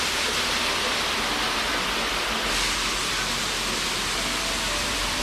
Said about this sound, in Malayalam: വലിയൊരു പാറയുടെ സൈഡിൽ കൂടെ വെള്ളം ഒഴുകി വരുന്നത്